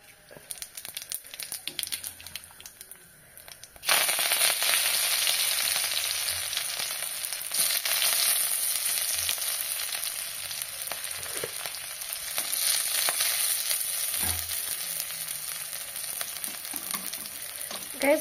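Chilli chicken sizzles and fries in a hot kadai, a steady loud crackling hiss that kicks in after a few quieter seconds of stirring and clatter, then continues close and unbroken to the end.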